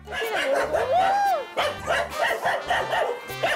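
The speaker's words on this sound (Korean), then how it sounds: "왁자지껄, 방문객을 반기는 이곳은 강아지들이 머무는 견사인데요." Beagles bark and yip in a kennel, an excited, overlapping chorus of close, loud barks with a rising whine among them, and voices in the background.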